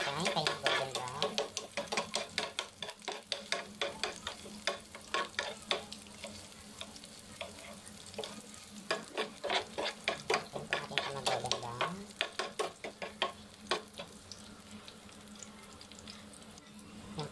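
Garlic sautéing in hot cooking oil, a steady sizzle and fry broken by repeated rhythmic scraping strokes of a spoon stirring the pan, close and fairly loud throughout.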